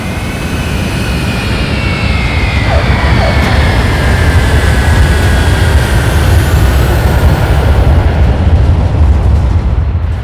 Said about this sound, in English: The throttles are pushed to full power.